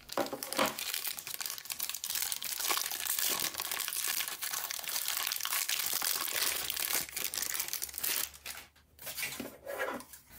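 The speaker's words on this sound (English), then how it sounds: "Let's go ahead and unwrap this." Packaging around a new 2 terabyte SSHD hard drive is unwrapped up close, with continuous crinkling and crumpling of plastic and some tearing, then a few quieter handling rustles near the end.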